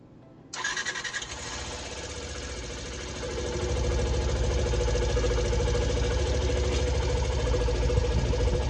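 A Yamaha YS125 motorcycle starts up with a quick whir and catch, then runs after an oil change, settling into a close, steady buzzing idle that grows slightly louder and rougher after a few seconds, with no talk.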